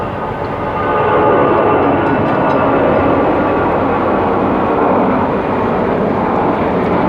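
Passenger airplane recently departed from a nearby airport, flying overhead as a steady, loud broadband engine roar that swells in the first second and holds for several seconds, with no talking.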